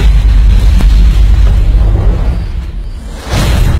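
A grenade goes off in Call of Duty: Infinite Warfare multiplayer, a loud, sustained booming rumble with a whooshing rush that fades and then swells again near the end.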